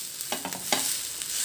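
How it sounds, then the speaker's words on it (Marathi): An uttapam is flipped and left toasting on a hot pan, giving a few quiet spatula scrapes and taps over a soft, faint sizzle, close by with no voices. "तर एक साईड छान भाजून झाली, उत्तप्पम पलटून घेऊया"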